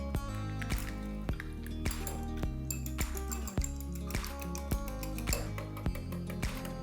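Three eggs are beaten in a bowl for a chicken pancake, with a fork or whisk striking the bowl in a steady, quick rhythm of close clinks over a wet, sloshing sound.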